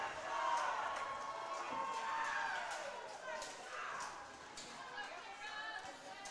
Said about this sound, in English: Lots of cheering for the small but mighty province.